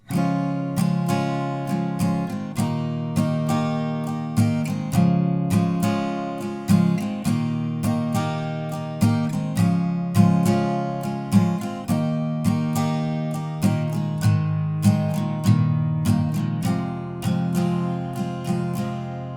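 Steady strummed chords on an acoustic guitar in a regular rhythm, moving through the chord progression, played alone and clearly.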